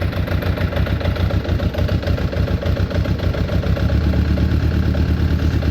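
A Suzuki Bandit 600 motorcycle, being repaired after a crash and running poorly, idles loudly up close with a rough, pulsing engine throb that thickens slightly as throttle is added toward the end.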